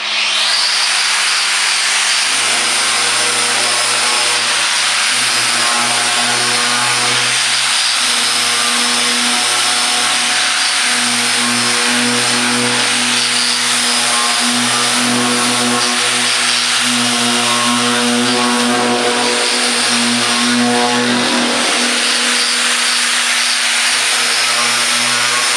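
A 4.5-inch angle grinder fitted with a flapper disc grinds a metal piece, a loud, continuous abrasive whine with a steady droning hum that holds throughout, dipping briefly near the end.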